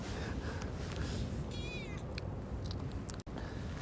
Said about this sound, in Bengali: এখানে অনেক বিড়াল, কেমন এই আমার কাছে আসতেছে কালো বিড়াল